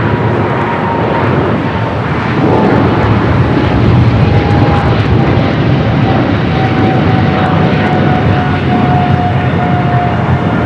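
A heavy jet on approach to runway 25 Left at Los Angeles International Airport gives a loud, steady engine roar with a faint whine drifting slowly downward, continuous throughout with no voices.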